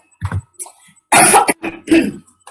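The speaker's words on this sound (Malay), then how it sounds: "Minta maaf, terbatuk" A few sharp coughs close by, a short one first, then a louder harsh pair, followed by a final cough, with brief pauses between.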